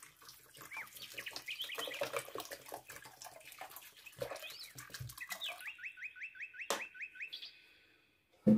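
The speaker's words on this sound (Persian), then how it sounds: "میریزیم نیم لیتر آب را." Half a litre of water is poured into a pot while making carrot jam, a steady splashing trickle. Birds chirp and squawk in the background until the pouring stops near the end.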